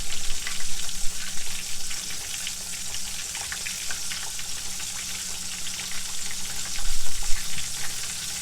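Ranch-seasoned chicken pieces frying in a pan of hot oil, a loud, dense, continuous hiss and crackle heard close up, swelling slightly toward the end.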